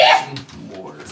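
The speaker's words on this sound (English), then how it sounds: "And that was a sneeze." A single sneeze bursts out close and loud at the start, followed by a softer sound and a brief vocal noise at the end.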